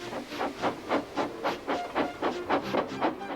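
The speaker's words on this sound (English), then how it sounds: "with much noise and blowing of steam, got ready to back onto the train" Rhythmic chuffs of steam hiss out in quick regular bursts, about a dozen puffs, like a steam locomotive blowing off steam close by.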